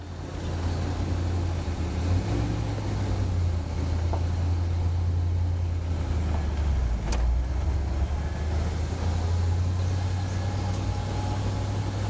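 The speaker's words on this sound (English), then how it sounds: "engine sounds great" A Chevelle muscle car engine drones steadily and loudly from inside the vehicle as it drives, with the engine pitch dipping and rising through gear changes.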